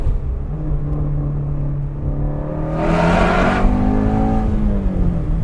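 A Ford Mustang Shelby GT350R engine idles with a deep rumble, then revs sharply in a loud, raspy burst before the pitch falls back, heard up close with no talking.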